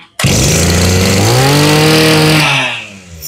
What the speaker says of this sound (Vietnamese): Máy nổ là bao im nghe cô chú.